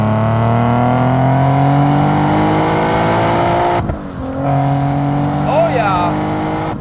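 A supercharged Nissan 370Z NISMO with a VQ37 engine pulls hard in third gear, its loud engine note rising steadily, cutting out briefly at a shift and then climbing again, heard from inside the car.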